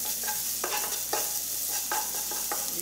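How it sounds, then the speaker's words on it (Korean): Ginger stir-fries in a hot pan for noodle sauce, a soft steady sizzle broken by several crisp scraping stir strokes at a regular pace, close and without talk. "생강 볶아주시고"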